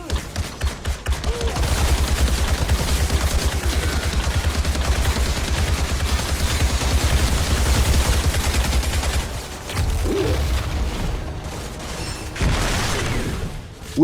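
Bursts of gunfire ring out in the Outriders video game, rapid automatic volleys and booming shots that keep going almost without a break, with a short lull before more firing.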